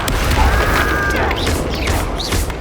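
An Incendio fire spell is cast in the Hogwarts Legacy video game, a booming, crackling burst among busy game effects, with several short whooshing flourishes following over a steady loud background.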